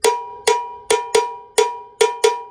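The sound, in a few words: cowbell bell pattern played in fusion mambo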